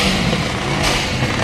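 Loud, steady roar of car engines revving together, a Mustang among them, at a gathering of cars; the din stays continuous throughout with voices faintly mixed in.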